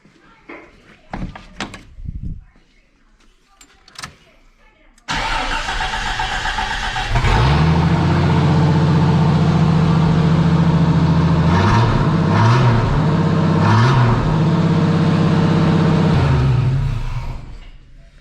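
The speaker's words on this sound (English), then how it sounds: "let's crank her up and see what it sounds like with no exhaust" After a few clunks and a brief voice, a Jeep Cherokee engine with no exhaust starts and runs rough and unmuffled, rumbling deeply with several sharp revs before settling.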